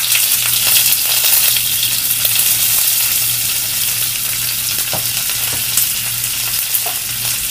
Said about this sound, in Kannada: ಬೆಳ್ಳುಳ್ಳಿಯಲ್ಲಿರೋ ಹಸಿ ವಾಸನೆ ಹೋಗೋ ತನಕ ಅದನ್ನ ಬಾಡಿಸ್ಕೊಂಡ್ಬಿಡೋಣ.